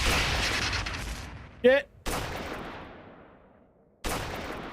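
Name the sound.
big gun firing in an Unreal Engine 5 video game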